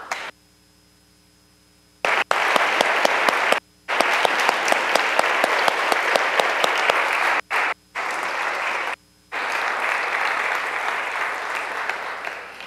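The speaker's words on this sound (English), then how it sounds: "Would our coaches please stand for a well-deserved round of applause?" Audience applause honoring coaches of young musicians at a youth music showcase, loud and sustained in several bursts separated by brief silent gaps.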